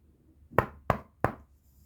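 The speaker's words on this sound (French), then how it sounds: "Le loup frappe à la porte" Three sharp, evenly spaced knocks on a door in a storybook telling of the three little pigs, the wolf rapping close and crisp with quiet between blows.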